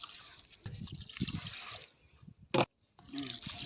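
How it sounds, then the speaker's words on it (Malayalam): Water is poured into a cooking pot of spiced beef and tapioca biryani, giving gurgling, splashing bursts of liquid close by with short pauses between pours. "ആവശ്യത്തിന് വെള്ളം ഒഴിച്ചു കൊടുക്കാം"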